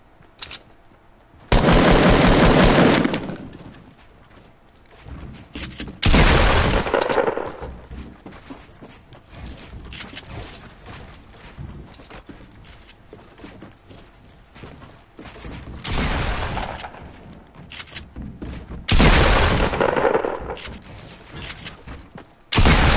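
Gunfire in Fortnite: several loud, sharp bursts of rapid shots separated by quieter gaps, close and dominant, with a final burst cut off at the end.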